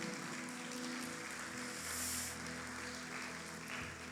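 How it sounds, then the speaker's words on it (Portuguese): A church congregation claps together over soft sustained worship music, a quiet, continuous wash of applause holding steady throughout. "Você pode aplaudir ao Senhor, amém?"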